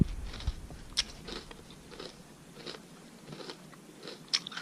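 Someone chewing a bowl of crunchy meal-replacement food up close, with repeated soft crunches and a few sharper bites spread across the quiet moment.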